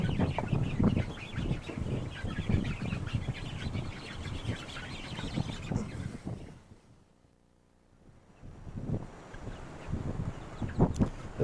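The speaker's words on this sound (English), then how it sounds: "There's a little pullet that just came into the middle of the picture right there, large fowl." Large fowl in a chicken pen cluck and murmur in a steady, near chorus. The noise fades to near silence briefly before the clucking resumes.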